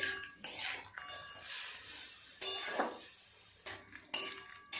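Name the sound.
stirring tomatoes in a cooking pan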